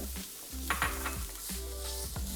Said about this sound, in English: I have 2 to 3 tablespoons of avocado oil in here. I'm gonna add a whole red onion.